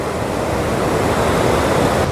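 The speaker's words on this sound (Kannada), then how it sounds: "ನೋಡ್ರಿ ಫಾಲ್ಸು." Rushing water of a waterfall near Gokak in Belagavi, a steady loud broadband roar holding constant throughout with no voices.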